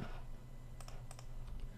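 Short AutoCAD commands tapped out on a computer keyboard: a few quick, light keystrokes clustered near the end over a steady low hum, with no talking.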